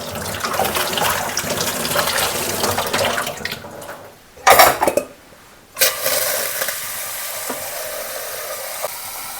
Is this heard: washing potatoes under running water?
yes